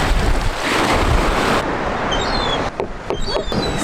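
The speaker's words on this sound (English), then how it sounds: "the wind is starting to pick up" Strong, gusty wind by the sea during a storm roars and buffets the microphone, with surf washing underneath. It eases slightly partway through as faint bird chirps come through.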